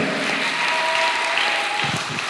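A church congregation applauds for Jesus with a dense, steady round of clapping that fills the room at even loudness, and brief voices come through near the end.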